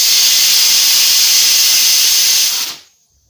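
A pressure cooker of white peas cooking for chole releases steam in a loud, steady hiss that holds for nearly three seconds before cutting off abruptly into silence.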